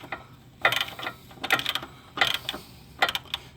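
A ratchet snugs bolts during a transmission replacement on a 2014-2016 Kia Soul, with four short bursts of rapid clicking separated by quiet gaps, close and fairly loud.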